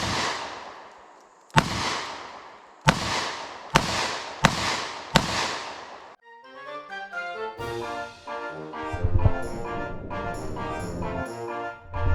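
Five loud, sharp gunshots from a Smith & Wesson Governor revolver firing number 9 birdshot at a target, evenly spaced with ringing decay, followed by a burst of bright musical or electronic tones.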